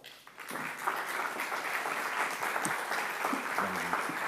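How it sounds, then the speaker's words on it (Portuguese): Audience applause welcoming Portuguese author Alberto S. Santos onto a talk-event stage, a brief quiet start then continuous dense clapping, with faint voices underneath. "uma salva de palmas, por favor, para Alberto S. Santos."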